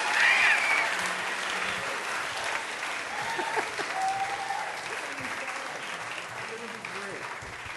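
An audience at a Moth story slam claps steadily to welcome a storyteller onto the stage, a dense, even wash of applause heard from within the room with a few faint voices and whistles.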